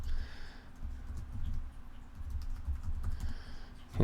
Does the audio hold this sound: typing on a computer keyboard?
yes